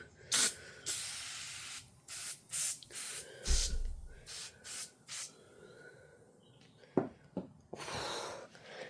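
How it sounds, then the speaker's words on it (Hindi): Oven cleaner sprayed inside a domestic oven, a series of short sharp hissing bursts from a spray trigger, close and fairly loud, spaced irregularly with brief pauses between them. "ये ना ओवन में मैंने कर दिया है स्प्रे, लेकिन ये काफ़ी स्ट्रॉन्ग है।"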